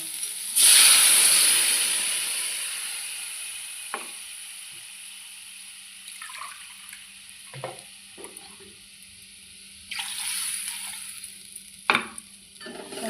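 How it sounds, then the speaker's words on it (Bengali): Water hits a hot pan of spiced fish curry with cumin, green chili, salt and turmeric paste, bursting into a loud hiss that fades into gentle sizzling, with a second sizzling swell and stirring clicks later. "মশলাটা ভালো করে কষা হয়ে গেছে, এবার জল দিয়ে দেব।"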